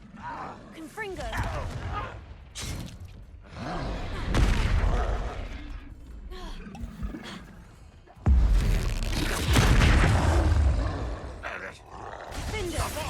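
Confringo blasting spells from Hogwarts Legacy erupt in booming, crackling explosions, one around the middle and a heavier one later, among combat noise and grunts. Character voices speak throughout.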